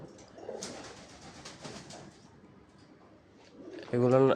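Pigeons on a farm, kept in pairs with a nest box for each pair, coo faintly in the background while someone talks over them.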